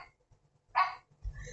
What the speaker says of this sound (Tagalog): Yung aso namin, Doberman. Lakas ng taol, no?